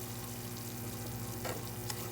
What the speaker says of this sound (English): we're going to stir this until it starts getting brown